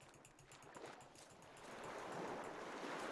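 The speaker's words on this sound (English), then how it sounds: "I heard ocean." Ocean waves wash through a foggy, windy outdoor scene in the video game The Last Door, a steady broadband surf hiss that swells louder through the second half, with no voices.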